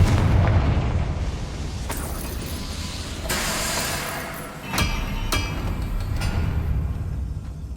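A Confringo spell blast in the video game Hogwarts Legacy, a dense rumbling explosion with sharp bursts at about two and five seconds, loud and sustained under a roaring game mix.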